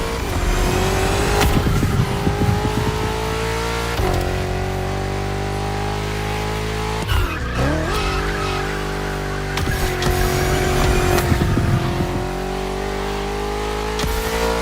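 Several BMW M CS competition-sport cars roar through an open-road race in the video game The Crew Motorfest, engines revving loud and continuous with gear-shift dips and rising pitch, plus brief tire squeal.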